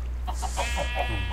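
Chickens in the Minecraft village-building game give a few short clucks, one after another, over a steady low background hum.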